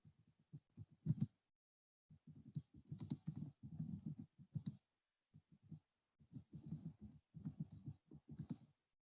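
Typing on a computer keyboard, bursts of quick close clicking keystrokes separated by short pauses, fairly quiet with no talk.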